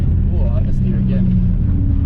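A Ford Falcon sliding on a track gives a loud, continuous engine roar that stays fairly steady for two seconds, with a voice talking over it.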